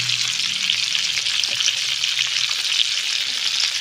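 Small cut pieces of eggplant fry with cumin in a pan, giving off a steady, close, bright sizzle with faint stirring scrapes and no talking.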